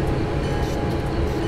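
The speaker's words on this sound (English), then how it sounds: "That's the train." Freight train rolling in Train Simulator 2013, a loud steady low rumble of wagons running continuously with no pauses or voices.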